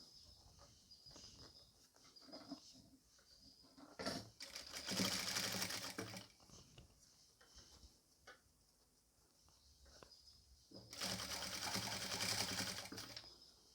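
A sewing machine stitches the narrow rolled cross piece of a nighty in two close, rapid whirring bursts of needle chatter, separated by quieter handling of the fabric.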